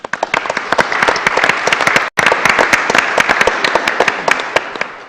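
Audience at a Lynn Haven, Florida city commission meeting applauds first responders and military personnel, a loud, dense burst of clapping that cuts out briefly and then resumes just as strongly.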